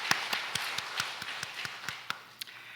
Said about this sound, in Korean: 다시 한번 박수 보내겠습니다.